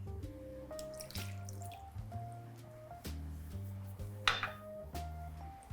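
Water pours into a pot holding blueberry pulp for a cheesecake topping, a faint close trickle with soft gurgling, squishy splashes and a few sharper drips.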